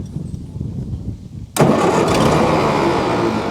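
A 1946 David Brown aircraft tug is started on a little choke: a low rumbling crank gives way to a sudden loud catch as the engine fires and keeps running, close by.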